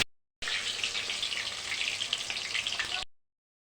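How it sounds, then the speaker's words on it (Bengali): Pumpkin and eggplant frying in hot oil, a bright, dense sizzle holding steady for about two and a half seconds, close and moderately loud, cut off abruptly at both ends. "আমি প্রথমে মিষ্টি কুমড়া আর বেগুনটা ভাজি করে নেব"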